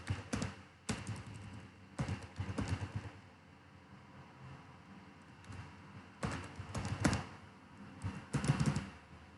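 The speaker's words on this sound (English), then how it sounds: "and you need to type the password." A password is typed on a computer keyboard in quiet, clustered bursts of soft key clicks separated by brief pauses.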